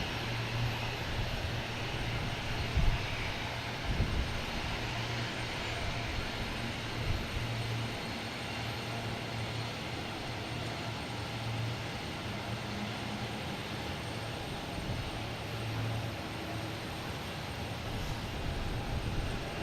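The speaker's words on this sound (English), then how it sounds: "Next takeoff is JetBlue, heading to Denver on an A220." A JetBlue Airbus A220 jet taking off at Boston Logan Airport, a steady, fairly distant engine roar holding even throughout with no talking.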